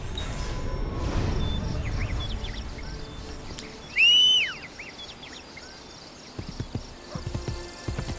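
Horse hooves clip-clop in Assassin's Creed: Brotherhood, a steady run of soft thuds under ambient birdsong and insect chirps, with a louder burst midway and sharper hoof strikes toward the end.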